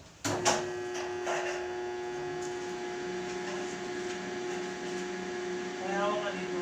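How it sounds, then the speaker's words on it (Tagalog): A welding machine runs while a metal gate is welded, giving a steady electrical hum with a sharp metallic clatter at the start and a brief rise near the end. "Welding machine natin."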